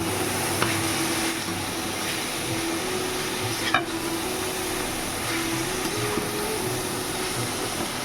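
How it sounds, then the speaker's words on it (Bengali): Grated carrot for halwa gets stirred and fried in a black kadai, a continuous close sizzle with soft scraping as it is mixed and one brief clatter partway through, and no one speaks. "এবার ভালো করে মাখাতে হবে মাখিয়ে ভাজতে হবে"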